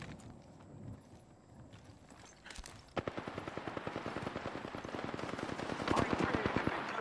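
Rapid automatic gunfire erupts in a video game battle, a long, steady rattle of close, loud shots that starts abruptly and keeps going to the end, with faint game voices before it.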